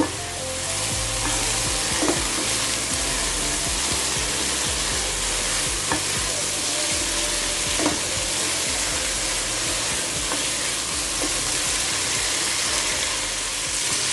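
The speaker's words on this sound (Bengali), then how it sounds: "এই যে ভেজে রাখা বুড়িটা আমি দিয়ে দিচ্ছি এখানে পেঁয়াজ বেরেস্তাও ছিল সেটাও আমি দিয়ে দিলাম এবারে আবারও আমি কষিয়ে নিব" Beef tripe with fried onions is stir-fried, giving a loud, continuous sizzle with spatula scrapes and scattered clicks against the pan throughout, no one speaking.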